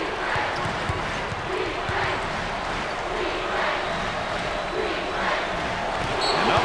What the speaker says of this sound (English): Listen to this crowd. Oh, there's all kinds of people standing and cheering and going wacky.